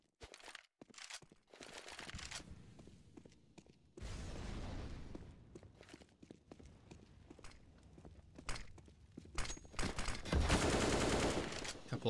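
Gunfire from a Negev light machine gun in a Counter-Strike esports match between AGO and EPG, heard as rapid bursts and sustained automatic volleys with dense crackling, mixed with other game sounds and footsteps over about twelve seconds.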